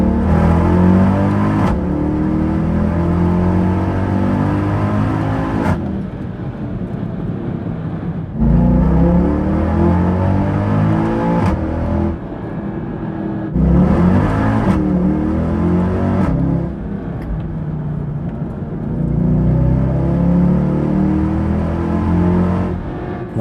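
Mercedes E63 AMG W212 driving and accelerating hard, its engine roaring up through repeated pulls, broken by sudden gear shifts and brief quieter lifts, close and loud.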